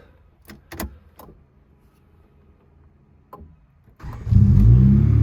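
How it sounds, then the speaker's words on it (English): A Honda EG Civic engine cranks and catches near the end, settling into a loud, close idle after a few sharp clicks and quiet rustling beforehand. "now let's try start it"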